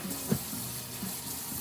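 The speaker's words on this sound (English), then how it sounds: "hand wash the damn lid and put it on." Steady running water from a tap while a plastic Tupperware lid is hand washed at a sink, a constant close rush with small splashy bumps and no talking.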